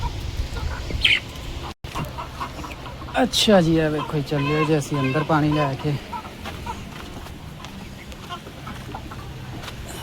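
Chickens in a shed on a scorching 42-degree day give a close run of clucking calls lasting a few seconds, while someone talks nearby.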